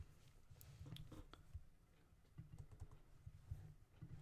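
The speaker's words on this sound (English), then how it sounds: "let me just type in a separate print line here" Quiet typing on a computer keyboard, with irregular soft clicks and small clusters of keystrokes over a low hum, and no talking.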